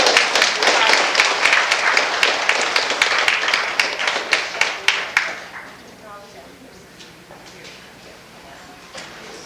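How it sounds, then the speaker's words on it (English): An audience claps for itself at a community news event. The applause is sharp and fairly close at first, then thins out and fades into quiet room noise with a few scattered claps. "I think you should all give yourselves a big round of applause"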